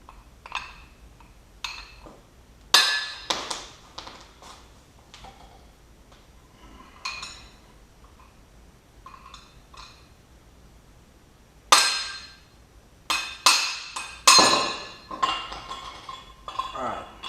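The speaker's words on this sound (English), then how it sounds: "Now I gotta hit it with a hammer again." A hammer strikes the metal shaft of a Nissan S13 power steering rack during disassembly, sharp ringing metallic blows in irregular clusters with quiet pauses between them.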